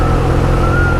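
A motor vehicle engine revs hard and loud for a moment after a fumbled gear change, partway through a long road trip from the UK to Athens, with the pitch wavering as the revs rise.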